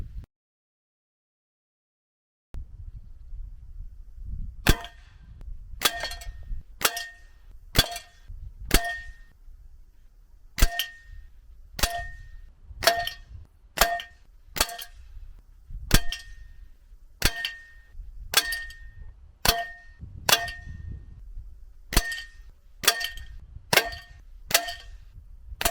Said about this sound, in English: This is a .22 air gun which I've previously reviewed on the channel.